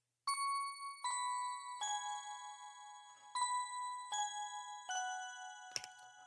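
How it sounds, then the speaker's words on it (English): Bright bell tones in a beat, seven struck notes with ringing decay, played one after another in a slow melodic line, clear and alone. "And we also have a bell now that complements that pad."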